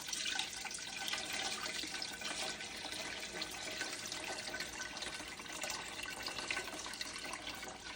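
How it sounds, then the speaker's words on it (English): Watermelon juice poured through a strainer makes a steady, soft splashing trickle of liquid, continuous and close throughout with no talking. "I'm going to run this through a strainer just one more time just to catch any leftover sediments."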